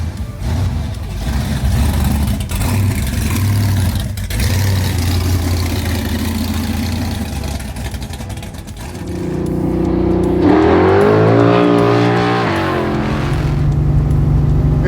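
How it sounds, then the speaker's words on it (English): A 700hp Dodge Coronet 440 Hemi drag car idles with a loud, lumpy rumble, then revs up hard as it pulls away, its engine note climbing steadily close by. "let's fire it up and go take it for a drive"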